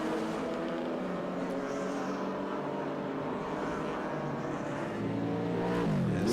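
Historic sports cars race along the start-finish straight at the Winton Festival of Speed, engines holding a loud, steady multi-layered roar that swells near the end as a car closes in and passes.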